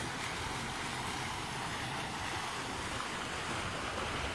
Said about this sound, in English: And here are the fountains.